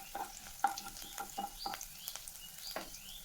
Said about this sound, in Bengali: এবার এটাকে ভালোভাবে নাড়াচাড়া করে নিচ্ছি।